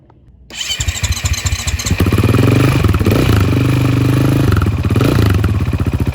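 A motorcycle that had been drowned in water cranks, fires and starts after a brief quiet moment, then keeps running with a loud, steady, clattering engine note close by.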